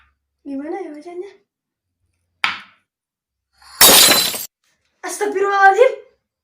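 Glass smashes in a sharp, bright crash near the middle, a brief clink just before it, with speech before and after in an indoor domestic scene.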